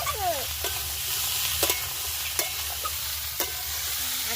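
Boiled peas, ground spices and tomato fry in mutton fat for ghugni, giving a continuous low sizzle with a few sharp spoon knocks against the pan, up close and without speech.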